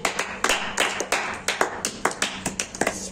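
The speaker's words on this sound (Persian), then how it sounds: "یه تشویق" A few people clap in applause, sharp, uneven hand claps repeating steadily at close range for about three seconds.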